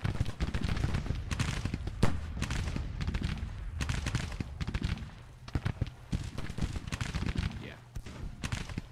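Massed musket and cannon fire from a Civil War battle in the Grand Tactician strategy game, with dense crackling volleys and low booms rolling continuously under a talking voice.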